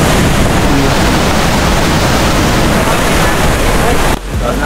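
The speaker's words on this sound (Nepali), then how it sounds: "यसलाई चाहिँ रूपसे झरना भनिँदो रहेछ" Rupse waterfall on the trail toward Upper Mustang roars with loud, dense rushing water that stays constant and close, then briefly dips near the end.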